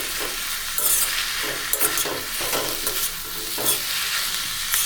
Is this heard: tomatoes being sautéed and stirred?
yes